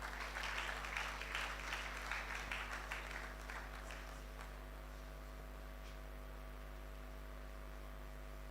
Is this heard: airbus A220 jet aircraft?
no